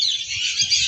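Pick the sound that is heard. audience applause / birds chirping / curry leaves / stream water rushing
birds chirping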